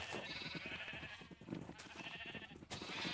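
Sheep in the Minecraft video game bleat repeatedly in overlapping cries, a small flock close by with no talking.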